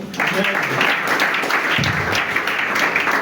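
A church congregation applauds in a steady, dense wash of clapping that fills the whole stretch, with voices mixed into the crowd noise.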